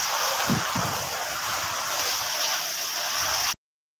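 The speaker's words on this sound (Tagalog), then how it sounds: "So, malakas ang hangin guys." Strong wind roars continuously across the microphone, a loud, steady blustery rush with low buffeting, then it cuts off abruptly.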